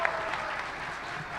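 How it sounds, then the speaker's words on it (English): A convention panel audience gives a steady wash of applause, a dense clapping crowd heard from within the room for the whole brief moment. "Thank you for knowing when to applaud."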